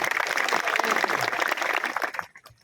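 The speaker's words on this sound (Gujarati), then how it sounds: "એમના માટે એક જોરદાર તાળીઓ થઈ જાય" A crowd applauds the organisers of a community gathering with a dense, steady patter of many hands clapping, held for about two seconds before cutting off abruptly, followed by a few faint scattered claps.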